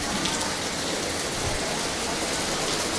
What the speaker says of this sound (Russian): Я даже рада пока, что дождик.